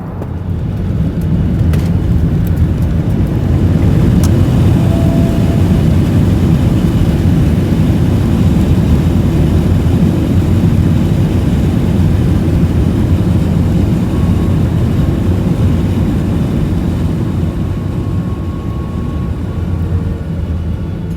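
Steady, loud roar inside the cabin of a Garuda Indonesia airliner as it lands in Jakarta, a constant broadband engine and air rush with no talk heard.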